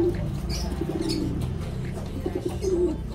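Pigeons of the Alphonse Cross breed, nesting in an oregano planter, coo softly and repeatedly, their low murmuring calls continuous and close over steady background noise, with a few faint chirps.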